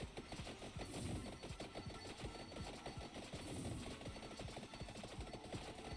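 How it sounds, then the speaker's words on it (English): Rapid, steady bursts from a machine gun wand in Final Fantasy XIV, a fast rattling stream of close shots repeating through the whole stretch over faint game background. "So now we have the machine gun wand."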